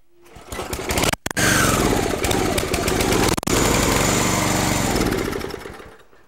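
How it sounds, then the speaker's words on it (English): A small engine fed squirted fuel catches after a pull and roars loudly at close range, one brief stumble early and another mid-run, then winds down as the fuel runs out. "So when I pull on it, hopefully it'll start."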